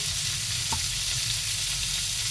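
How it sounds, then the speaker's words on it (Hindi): Food fries and is stirred in a pan in a home kitchen, giving a steady hissing sizzle throughout with one brief scrape partway through and no talking. "पर मैं रसोई में बना रही हूँ ना तो थोड़ी बहुत तो आवाज़ आएगी"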